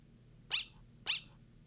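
Two short synthetic barks from the Greater Dog in the game Undertale, evenly spaced about half a second apart over a quiet background.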